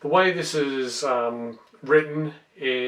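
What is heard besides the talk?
No everyday noises stand out.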